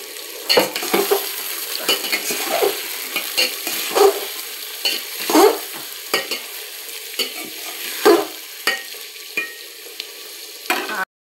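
Crushed garlic and tomato are stirred in a cooking pot for a handi mutton dish, a soft sizzle broken by repeated spoon knocks and scrapes against the metal at irregular intervals.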